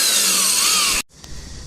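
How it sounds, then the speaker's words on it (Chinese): A power drill bores a hole through a wall for installing an R32 air conditioner, a loud, high whining grind lasting about a second before cutting off abruptly, followed by a quieter room tone. "刚才胡师傅在打孔的时候"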